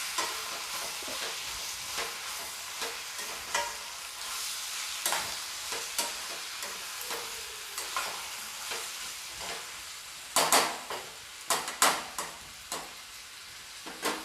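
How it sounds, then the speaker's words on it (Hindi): Tomatoes cook in a pan for shahi paneer, a soft continuous sizzle and frying hiss broken by scraping stirs, with a burst of louder clatter near the end; nobody speaks. "अब मैं टमाटर को अच्छी तरीके से गल जाने तक पका लूँगी मैं"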